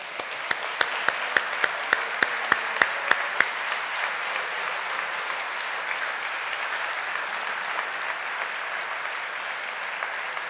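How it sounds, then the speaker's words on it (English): A crowd applauds at a junior ring ceremony in a steady, fairly loud wash of clapping, with a few sharp distinct claps standing out at the start. "Let's give them a round of applause."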